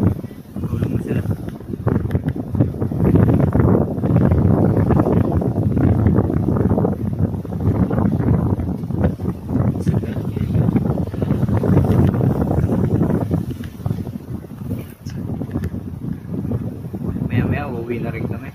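Strong afternoon wind on Fortune Island roars steadily across the microphone in loud, continuous gusts, buffeting throughout with little letup.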